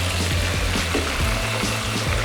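Chicken fries in hot oil, a steady dense sizzle and bubbling crackle filling the kitchen, continuous and fairly loud with no voices over it.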